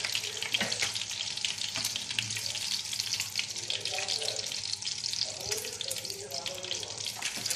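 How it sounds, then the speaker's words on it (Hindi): Chicken sticks frying in oil, a steady sizzling crackle with bursts of popping and occasional utensil clinks, close and fairly quiet, with faint voice sounds in places. "अब फ्राई कर करके निकालते जा रहे हैं इधर, दोनों साइड से हो जाए तो बस इनको निकाल लेना है।"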